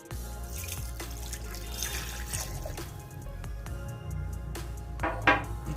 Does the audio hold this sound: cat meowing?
no